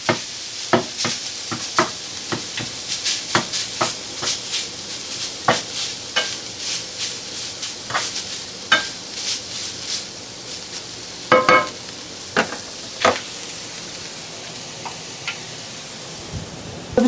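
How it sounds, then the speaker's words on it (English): Hamburger meat browning with onion and garlic in a pan for shepherd's pie gives a steady, soft sizzle, broken by frequent sharp clicks and scrapes from stirring, with no talking. "we've gotten some browning, additional browning on the hamburger"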